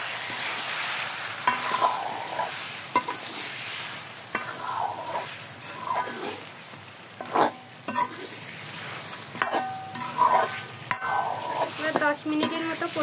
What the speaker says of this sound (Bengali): এবার 10 মিনিটের মতো কষিয়ে নিব